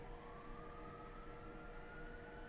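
A distant city siren holds a steady, slowly rising wail, faint and continuous beneath a low background hum.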